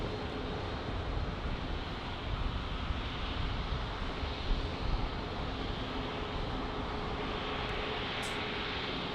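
A WestJet airliner passing near a busy single runway in San Diego, heard as a steady, broad engine roar with wind noise, fairly quiet and unbroken throughout, no talking.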